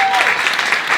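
A hall audience breaks into a brief burst of steady applause, dense and close, filling the whole moment.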